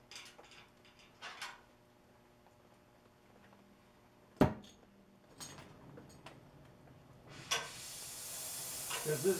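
A gas welding torch hisses as it preheats freezing-cold metal, a steady rushing hiss that swells near the end, preceded by scattered clicks and a sharp pop, with faint speech earlier.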